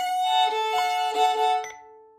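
A fiddle plays the second strain of a tune, beginning on G natural, as a short run of clear bowed notes with steady sustained tones and distinct note changes, close and alone before ringing out.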